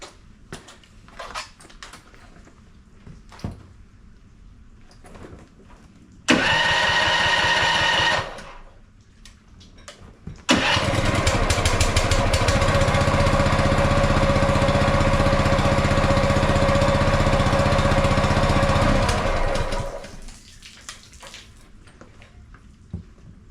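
Gas-powered pressure washer engine, a Comet P40 pump setup in a garage, bursts into a loud steady roar for about two seconds, cuts out, then restarts and runs continuously for roughly nine seconds before stopping.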